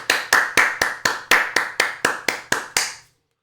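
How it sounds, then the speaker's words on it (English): Twelve sharp hand claps in an even, fast rhythm, a little under four per second, each one loud and close with a short ringing tail, followed by silence. "I could clap maybe 3 times a second"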